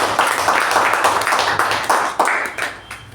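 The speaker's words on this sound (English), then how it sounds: "Please give a huge round of applause to our President." At a Toastmasters club meeting, an audience gives a round of applause, with dense overlapping clapping that is loud and steady before thinning into a few scattered claps near the end.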